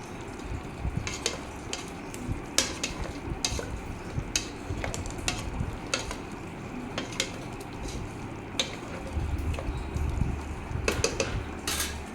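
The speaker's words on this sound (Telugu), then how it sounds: "మధ్య మధ్యలో కలుపుతూ ఉండండి" Kolkata-style chicken biryani frying in a pot is stirred, the utensil scraping and clinking against the pot in repeated sharp strokes over a low, continuous sizzle.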